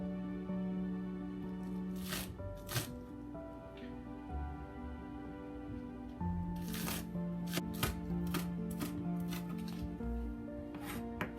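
A knife chops pork on a cutting board, with bursts of quick close taps separated by pauses and steady background hum behind them.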